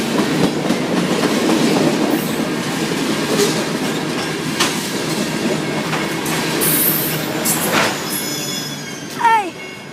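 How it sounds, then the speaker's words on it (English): A freight train passes at night on Washington Street in Athens, Alabama, with a loud, continuous rumble and rhythmic wheel clatter, occasional squeals of metal wheels, and a brief chirping sound near the end. "Another train."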